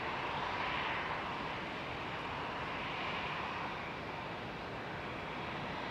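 A Bluebird aircraft moving out at an airport gives a faint, steady jet roar, distant and unbroken for several seconds with no voices over it.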